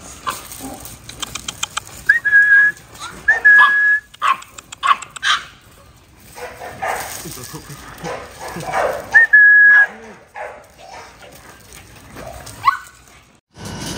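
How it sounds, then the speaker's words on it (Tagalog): Three Pomeranian puppies of Chow-Lia line at a pet market give thin, high whimpers and short yips in scattered bursts, close by, with quiet stretches of background market noise between them. "Meron tayo ditong 3 Pomeranian puppies. Mga Chow-Lia line."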